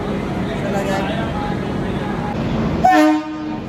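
A train at Old Delhi railway station sounds a clear horn toot near the end, over a steady hum of busy platform noise and chatter.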